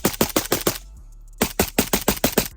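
A PSA Krink AK rifle fires quick strings of loud sharp shots, about six in a burst, then a brief pause, then another rapid burst of around eight rounds, close and echoing.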